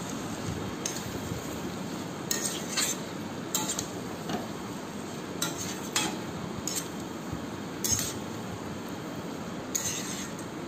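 A spatula stirs coriander leaf chachchari in a metal pan, giving soft scraping under a low hum, punctuated by a dozen or so light, evenly spaced metallic clinks.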